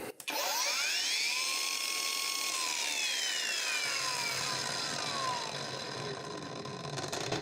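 PATUOPRO PTA001601 cordless angle grinder spinning up: a sharp start, then a steady high-pitched motor whine with tones gliding as it runs up and slowly winds down, close and alone.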